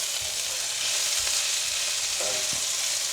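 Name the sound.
stirring frying eggplant with spices in a pan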